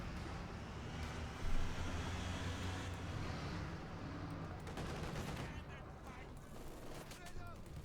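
Gunfire in the strategy game Company of Heroes 2, in a Wehrmacht versus Soviet match: a steady rumble of combat with a sharp shot near the start and denser bursts of firing later, under a faint voice.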